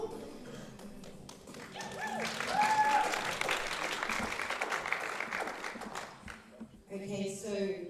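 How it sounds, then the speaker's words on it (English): Audience applause at a women's 76 kg weightlifting championship session as athletes sit on the platform, a swelling wash of clapping with a voice talking over it, fading near the end as music enters. "Big round of applause for our athletes as they sit down onto the platform."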